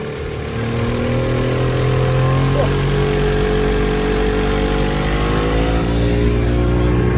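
A loud motorboat engine drones steadily throughout, with a rough, throbbing low rumble. The engine runs continuously, close by.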